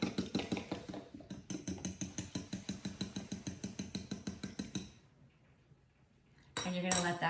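A spoon stirs chia pudding made with agave syrup and coconut milk, giving a steady, rapid run of clinks against the bowl for about five seconds, then near quiet, then a louder burst of scraping.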